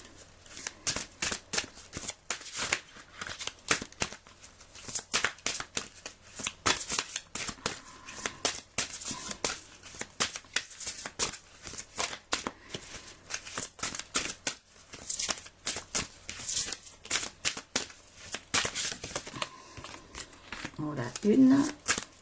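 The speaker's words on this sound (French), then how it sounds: "ils me laissent mélanger les cartes" Oracle cards are shuffled by hand in repeated quick riffling and slapping bursts throughout, close and crisp, with brief pauses between handfuls.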